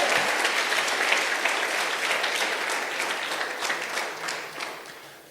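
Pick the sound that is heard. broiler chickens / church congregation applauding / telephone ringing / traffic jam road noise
church congregation applauding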